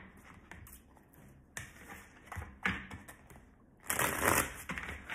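Close, papery bursts of tarot cards being shuffled, several short riffles separated by pauses, with a longer, louder flurry near the end.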